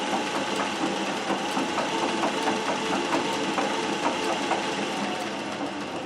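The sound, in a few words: Singer 411G treadle sewing machine gears running at speed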